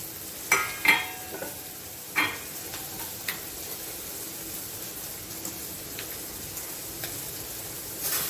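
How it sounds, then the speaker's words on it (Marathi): Chopped vegetables sautéing in a pan for sandwiches, a faint soft sizzle broken by occasional clicks and taps of a spatula stirring against the pan. "फक्त 2 मिनिटं ह्या परतून घ्यायच्या आहेत, जेणेकरून भाज्यांचा जो कच्चेपणा आहे तो पूर्णपणे निघून जाईल."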